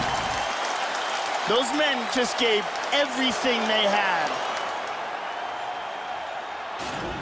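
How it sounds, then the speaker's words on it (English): A crowd in EA Sports UFC 3 cheers and applauds steadily through a K1-rules bout, a broad roar that swells and then eases, with a commentator talking over it early on. "This crowd is on its feet."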